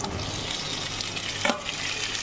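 Chopped tomatoes frying in a pan over ginger and garlic, with a soft continuous sizzle and one brief scrape of a spoon stirring them midway.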